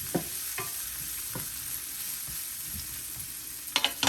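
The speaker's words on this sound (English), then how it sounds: "But you want to keep stirring. You want them to brown. You want them to brown evenly. So you give it a stir." Turkey sausage and peppers sizzling steadily in a pan, with periodic scrapes and knocks of a utensil stirring them and a cluster of louder clatters near the end; close and clear, no talk.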